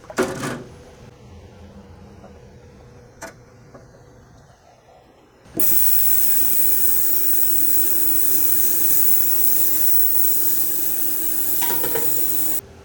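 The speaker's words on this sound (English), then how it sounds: "I'm gonna throw this in an ultrasonic cleaner and then put it back together." An ultrasonic cleaner runs with Club Car XRT 950 carburetor parts inside: a quieter stretch with a few faint knocks, then a loud, steady hissing buzz switches on and holds close and constant until near the end.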